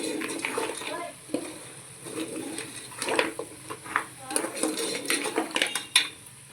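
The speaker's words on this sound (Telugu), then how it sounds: "ఇప్పుడు మనం ఒకసారి తిప్పుకుందాం" Metal spoon scraping and clanking against a pot while goat head curry with ginger paste is stirred, irregular close scrapes and knocks with a light sizzle underneath.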